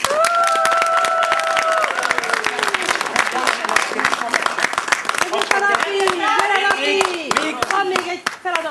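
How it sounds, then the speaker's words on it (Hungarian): Applause from the audience at a Purim performance, sharp clapping running throughout over sung or sustained voices and other stage sounds. "és mindenki hajoljon meg, és egy nagy tapsot kérünk"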